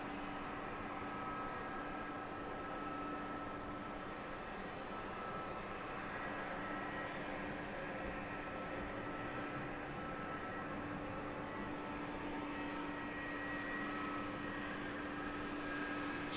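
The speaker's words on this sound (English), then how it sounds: "I think that's the second UPS flight" A UPS cargo plane arrives at Harrisburg airport at night, heard as a steady, distant engine drone with a constant hum that holds unchanged for the whole stretch, with no voices over it.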